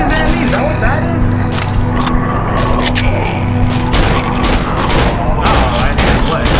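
Dense, loud gunfire from the horror video game Cry of Fear, rapid repeated shots and booms layered over game noise and a steady hum, with a person talking over the action.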